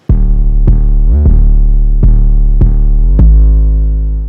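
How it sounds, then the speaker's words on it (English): A deep 808 bass in a dark synth beat, loud sustained booming notes with several quick pitch slides, including one jump up an octave, punctuated by sharp clicky attacks and no talking. "So yeah, 808 slides they're fun."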